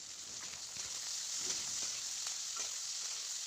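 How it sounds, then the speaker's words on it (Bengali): Flat beans and potatoes fry softly in oil tempered with dried red chilli, nigella seeds and turmeric. A steady, faint sizzle runs throughout, with light stirring taps. "আর এই যে বন্ধুরা দেখো শিম আর আলুটা দিয়ে দিয়েছি তেলে, শুকনো লঙ্কা ফোড়ন দিয়ে কালো জিরে"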